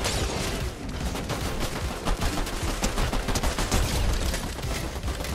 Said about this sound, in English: Yeah, shoot, Brittany. Shoot.